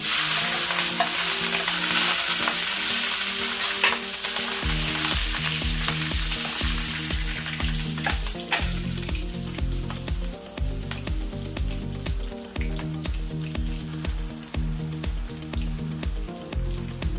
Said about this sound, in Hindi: तो मैं इसमें डालूंगी पहले तो जीरा और दालचीनी, हरी मिर्च और कड़ी पत्ता।